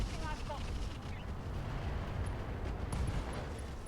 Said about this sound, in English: You got them with an ammo explosion.